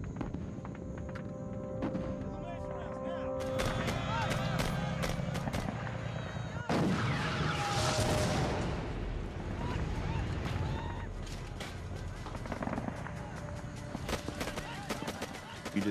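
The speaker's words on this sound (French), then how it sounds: "La fusillade sonne l'alerte à l'avant-poste de Old Lang Vey." Dense, continuous gunfire and heavy booming artillery blasts in a chaotic barrage at the Lang Vei camp, loud and sustained, with rumbling explosions layered throughout.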